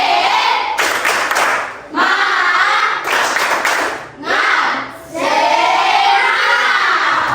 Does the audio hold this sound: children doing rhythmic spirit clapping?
yes